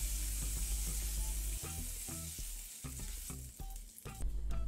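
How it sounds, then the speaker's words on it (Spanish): Prawns sautéing in hot oil for a soup-salad style prawn dish, a steady close sizzle and crackle with occasional stirring clatters of a utensil in the pan, no voices. "añadimos las gambas. Las salteamos, unos 25. O 30 segundos"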